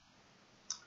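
A single sharp computer mouse right-click, close and faint, in an otherwise quiet room.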